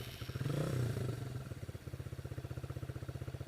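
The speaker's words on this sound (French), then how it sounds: "on va tout de suite la mettre en route pour écouter un petit peu le bruit qu'elle fait" A Masai Scrambler 125cc motorcycle engine starts with a rising surge and settles into a steady, rhythmic idle close to the microphone, with the regular pulsing of the single cylinder clearly audible.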